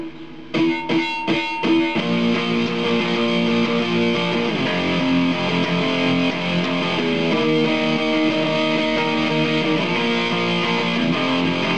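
A distorted electric guitar plays the power-chord chorus of a song, with a few choppy strums and then sustained, loud, buzzing chords that change pitch steadily, with no talking.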